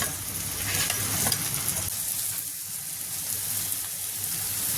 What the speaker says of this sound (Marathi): कांदा थोडासा भाजून झाल्यानंतर त्यामध्ये आपण टमाटर ऍड करायचं आहे आणि सर्व छान भाजून घ्यायचं आहे